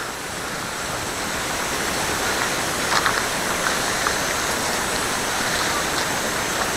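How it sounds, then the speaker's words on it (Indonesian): A small river swollen by flooding rushes in a steady, loud broadband roar, close and unbroken, carrying wood downstream, with no voices. "Ini itu sungai kecil saja, tapi dia banjir"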